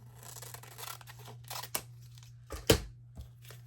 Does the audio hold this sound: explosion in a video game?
no